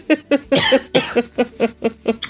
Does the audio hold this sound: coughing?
yes